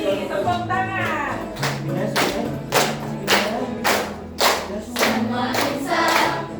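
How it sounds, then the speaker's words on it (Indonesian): A classroom of students claps hands in a steady rhythm while singing together, regular claps ringing out over the voices. "tepuk tangan."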